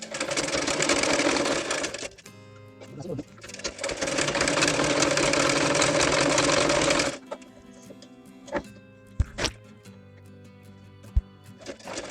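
A sewing machine stitches fabric for a little girl's top, running in two long steady bursts of fast rhythmic clatter, then stopping for quiet handling noises and a few faint clicks.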